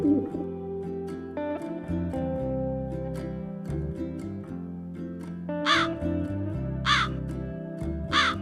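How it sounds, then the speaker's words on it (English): A crow gives several harsh, loud caws, with three sharp calls spaced about a second apart near the end, over a steady background of music. "Crow. Crow means"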